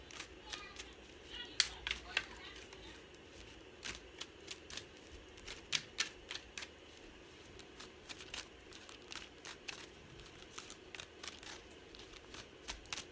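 Tarot cards being shuffled and drawn during an Aries reading: a steady run of quiet, crisp card flicks and riffles, close to the microphone, with soft speech in the background.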